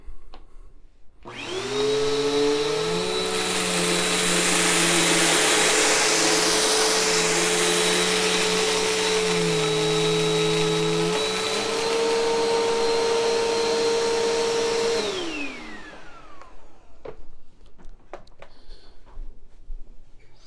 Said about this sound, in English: I've got rice and oats here, and this should be pretty simple for any machine to clean up.